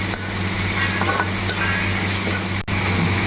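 Tomatoes go into a hot pan for lentil ball curry, giving a steady broadband sizzle that holds at an even, fairly loud level, with one brief dropout near the end.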